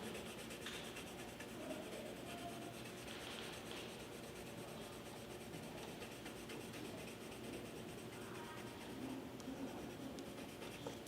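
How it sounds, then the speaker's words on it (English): Colored pencil strokes rasp across paper in a steady, continuous scratchy texture, close but quiet, with no voices over the repetitive drawing sound. "you can create strokes with your colored pencil to make a texture"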